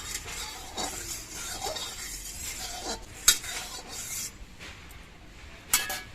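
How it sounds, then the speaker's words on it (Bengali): A metal spatula spreading hot mustard oil around a wok before frying small river tengra fish, light scraping strokes over a faint sizzle, with a couple of sharp clinks near the end. "এবার খুন্তি দিয়ে তেলটা আমি কড়াই চারপাশে একটু লাগিয়ে নিচ্ছি"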